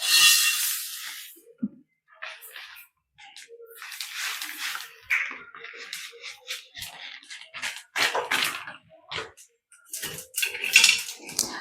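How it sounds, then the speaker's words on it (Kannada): Cumin, pepper and garlic dry roasting in a pan, with repeated scraping and clinking of a utensil against the metal in irregular bursts, close and moderately loud, no talking. "ಫಸ್ಟು ಎಲ್ಲನೂ ಡ್ರೈ ರೋಸ್ಟ್ ಮಾಡೋಣ"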